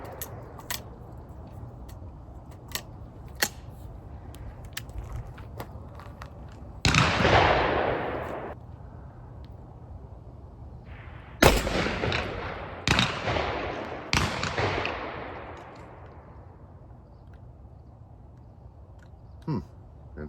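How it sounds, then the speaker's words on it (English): Several loud blasts from an L.C. Smith field grade 16 gauge double-barrel shotgun firing low recoil shells with 1 ounce of number 6 shot, outdoors. Single shots come at irregular intervals, each with a sharp crack and a long trailing echo. "I'm shooting low recoil, 1 ounce of number 6 shot."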